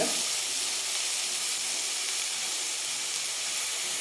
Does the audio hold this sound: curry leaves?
yes